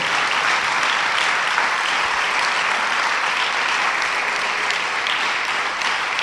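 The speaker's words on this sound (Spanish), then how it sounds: "Denle un aplauso al Señor" A church congregation applauds together in sustained, dense clapping that holds at a steady level throughout, with no breaks or speech.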